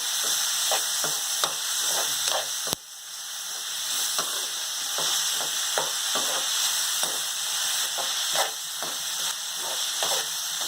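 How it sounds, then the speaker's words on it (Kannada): Tomatoes sizzle steadily in a hot pan, a dense, close frying hiss punctuated by repeated scraping taps of a stirring utensil at an irregular rhythm. "ಸ್ವಲ್ಪ ಟೊಮಟ ಹಾಕೋತಾ ಇದ್ದೀನಿ."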